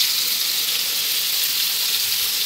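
Food fries in a pan with a steady, loud sizzling hiss that continues evenly throughout.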